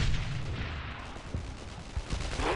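Sustained German MG42 machine gun fire in the WWII shooter Brothers in Arms: Earned in Blood, a dense, loud clatter of gunfire with sharper bursts near the end, no talk.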